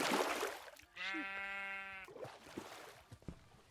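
A single sheep in a video game lets out one clear, wavering bleat lasting about a second, close and isolated, followed by faint shuffling sounds.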